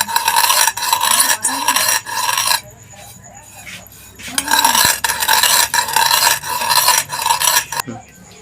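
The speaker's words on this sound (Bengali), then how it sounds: "চাকি বেল্লাতে আমি এটা সব গুঁড়ো করে নিচ্ছি।" Fried spices being ground to powder on a stone rolling board with a rolling pin for Kolkata aloo chop, a repeated rough scraping and rubbing, close and steady, with a brief pause midway.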